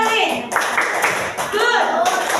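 A first-grade class of children does a rhythmic group clapping cheer for a classmate team, patterned bursts of claps mixed with young voices chanting along, close and lively.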